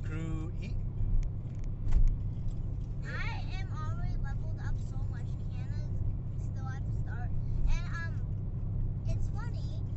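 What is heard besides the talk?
car driving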